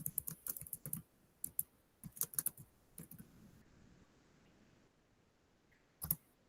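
Quiet bursts of computer keyboard typing come in quick clusters of clicks with short pauses between them, then a final brief flurry after a near-silent gap.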